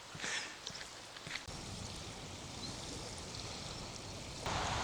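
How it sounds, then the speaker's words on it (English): Water pouring steadily over a weir at the outflow of St Mary's Loch in Scotland, a broad continuous rushing wash heard close by with no talk. "So at the bottom of the loch we have a weir"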